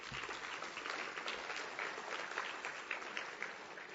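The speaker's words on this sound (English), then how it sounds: "Please give him a huge round of applause." Audience applause for a senator at an education and workforce plenary, steady continuous clapping from a sizable crowd at a consistent level, no talking.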